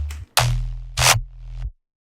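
Mono synth bass made from a default Serum wavetable with a single unison voice, a few short low sustained notes with bright buzzy attacks, starting and stopping abruptly, close and dry, followed by silence.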